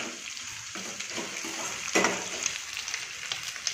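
Three large onions and green chillies frying in hot oil, giving a steady close sizzle with a louder burst of crackle around the middle.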